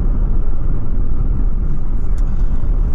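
A car driving along a road in Tenerife, Spain, heard as a steady, loud low rumble of engine and tyre noise throughout, close and continuous with no voices.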